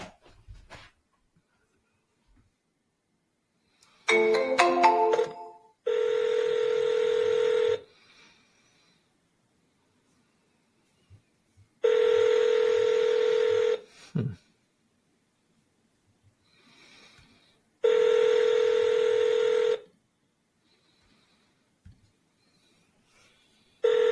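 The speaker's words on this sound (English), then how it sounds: "All right, let's just call." A phone call is placed: a short burst of keypad dialing tones, then three long, even ringback tones separated by silences, clear and close.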